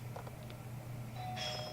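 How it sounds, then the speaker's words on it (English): A doorbell rings indoors with a soft, fairly distant chime, set against a steady low household hum. A brighter tone rises near the end. "Oh, that's the doorbell."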